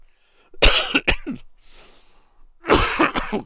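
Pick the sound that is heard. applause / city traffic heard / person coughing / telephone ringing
person coughing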